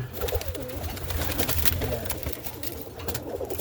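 Pigeons coo in a loft at night, with several overlapping low burbling calls close by amid rustling and shuffling movement.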